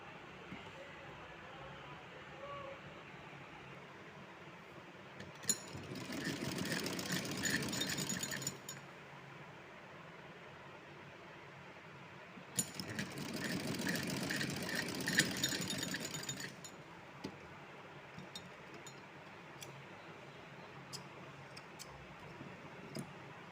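Sewing machine running a stitch along the twice-folded hem of a summer dress, two separate bursts of close, faint rhythmic whirring, each a few seconds long, with quiet room sound between them.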